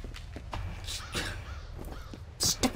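A crow caws several times in a video game, sharp and fairly close, with a couple of louder calls near the end over a low background rumble.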